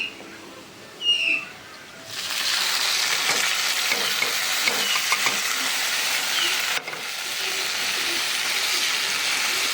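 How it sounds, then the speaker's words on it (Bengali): Ground spice paste frying with onions in a pan: after a quiet start with a brief bird call, a loud steady sizzle starts suddenly and runs to the end, with a short dip partway through. "এটা আমরা কাঁচা গন্ধ যে পর্যন্ত না যাবে ততক্ষণ আমরা ভাজবো"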